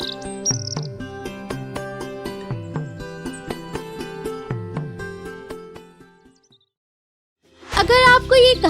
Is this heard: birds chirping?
yes